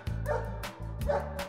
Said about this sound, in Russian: Эй, ты забери свою собаку и пусть она лает подальше отсюда.